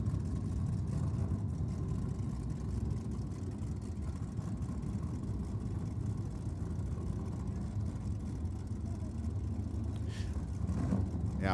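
Corvette drag racing down the quarter mile at Sydney Dragway, a loud continuous engine roar that stays steady throughout, with crowd or track noise mixed in.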